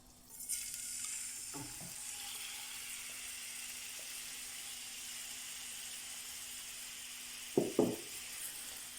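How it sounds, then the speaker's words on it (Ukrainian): Quiet, continuous sizzling from meat frying in lard or vegetable oil in a pan over high heat, with a few short scraping clatters of a utensil near the end. "ставимо сковорідку на вогонь, додаємо смальцю або ж рослинної олії та вкидаємо м'ясо."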